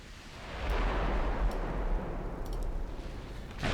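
Ships firing their naval guns in the video game Sharks, heard as deep booming rumbles that roll continuously, with a few sharper cracks layered on top.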